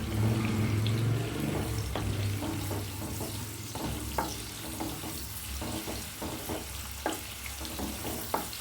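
Chopped onion sautés in hot coconut oil for a Kerala mango curry, a steady close sizzle with scattered clicks and scrapes of stirring throughout, plus a low hum near the start; no one speaks.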